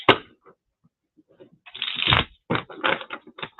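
Tarot cards being shuffled, with a few soft taps and then dense crackling riffles in short bursts. Close and fairly loud, with no voice over it.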